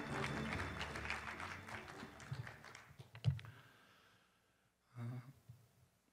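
Brief applause at a formal launch ceremony for a Gangwon cooperation network as the chairman comes onstage: dense clapping at first that thins out, a pause, then a short second burst of clapping.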